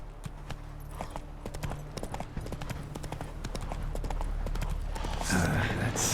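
Roach, the horse in The Witcher 3, gallops with rapid rhythmic hoofbeats that grow louder and busier toward the end, over a low ambient game hum.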